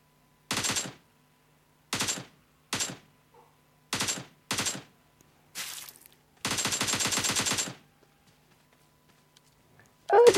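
Zombie video game gunfire: several separate bursts of rapid automatic shots, each about half a second, with one long sustained volley near the end, loud and close with silence between bursts and no talk.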